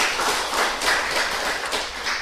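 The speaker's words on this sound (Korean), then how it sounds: "우리 하나님께 영광의 박수 돌릴까요?" A church congregation applauds during a Sunday worship service, a steady wash of many hands clapping together at moderate loudness, filling the room without pause for a couple of seconds.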